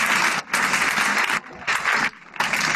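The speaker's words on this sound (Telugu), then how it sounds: "అమ్మందరికి ఒకసారి క్లాప్స్ ఇచ్చేయండి" Bursts of applause from a group clapping for the mothers at a children's club gathering, loud and dense, breaking off briefly twice before resuming.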